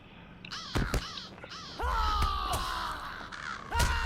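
Several crows caw harshly in the Lord of the Rings Online video game, with overlapping raspy calls, some loud and close and others further off, repeating over a few seconds without speech.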